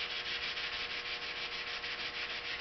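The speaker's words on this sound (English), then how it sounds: "this is wet sanding and 400 grit" Wet sanding of car body paint with 400-grit paper on a Chrysler Town and Country, a continuous rhythmic scrubbing hiss with even back-and-forth strokes, close up and alone.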